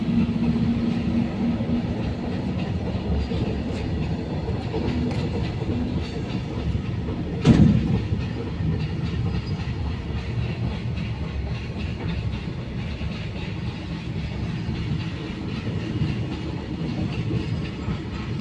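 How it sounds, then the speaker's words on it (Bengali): A freight train passes at a railway level crossing with a loud, steady rumble and rhythmic clickety-clack of wagons on the rails, holding nearly constant throughout with one brief sharper clank midway. "ট্রেন যাচ্ছে এখন,"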